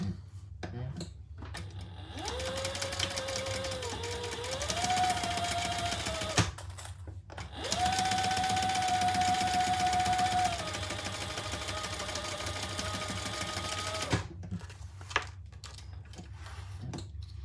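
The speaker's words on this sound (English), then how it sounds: "Okay, let's top stitch next to that zipper." A sewing machine top-stitches beside a zipper through thick fabric in two long steady runs of fast whirring stitches, separated by brief pauses and handling noises.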